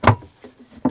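A storage cupboard door on a Sealine Classic 365 Sportbridge boat gives a sharp knock as it opens, a faint rattle follows, and a second clack comes about a second later, close and clear.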